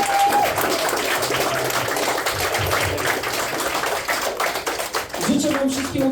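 An audience at a Gothic II fan meetup event applauds and claps steadily and loudly throughout, with a voice speaking over the crowd at the start and end.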